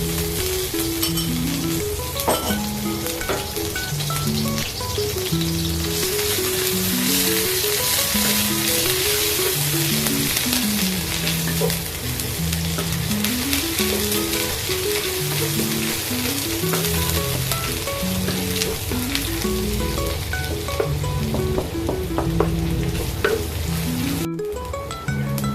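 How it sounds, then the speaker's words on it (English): Anchovies, belacan, shallot and garlic stir-fried in a wok, a steady loud sizzle running throughout with repeated scraping and stirring strokes, no voices. "First of all, stir fry the anchovies, belacan, shallot and garlic."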